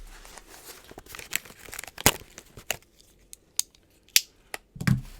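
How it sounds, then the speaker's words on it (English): Scissors or a blade slicing open a mailed cardboard package, with sharp crinkling, tearing and snipping bursts scattered irregularly and close by, no talk. "I guess it'll help if I cut the whole thing open, eh?"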